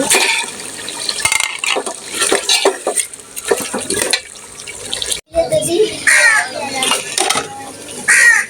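Potatoes tumble into a cooking pot in a home kitchen, with loud clattering, scraping against metal and wet, stirring sounds close by, broken by a brief pause before more rattling.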